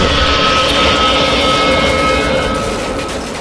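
A generator in a Roblox horror game roars loudly and steadily, with a droning engine tone that fades slightly toward the end.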